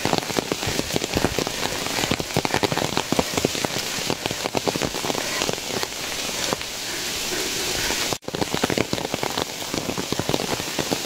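Heavy rain falls on a Qinling mountain ridge path lined with arrow bamboo, a dense, constant close patter of drops on leaves and ground that continues throughout.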